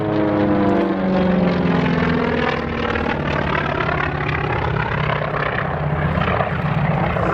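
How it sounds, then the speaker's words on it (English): Grumman Wildcat WWII fighter airborne at a Battle of Britain air show at Duxford, a loud continuous piston-engine drone with shifting pitch as it passes, no voices. "the Wildcat, an aircraft that is very appropriate to have in a Battle of Britain air show"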